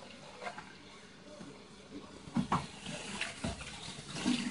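A child's feet paddle and slosh water in a filling bath, making soft, irregular splashes and drips against a quiet background, with occasional faint voices nearby.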